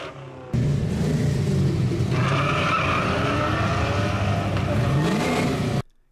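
A Ford Mustang GT with a V8 engine drives hard, its loud, continuous engine growl rising in pitch as it accelerates, with tire noise on top, ending abruptly.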